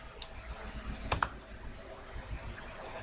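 Several quick keystrokes on a computer keyboard as commands are entered for a router setup, a short cluster of crisp clicks around the middle, fairly close, over a quiet room hum with no talking.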